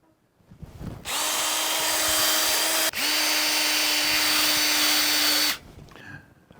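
A power tool fitted with a mild abrasive pad whirs loudly over the deck of a Ford 302 engine block to clean it, in two long steady runs split by a brief stop.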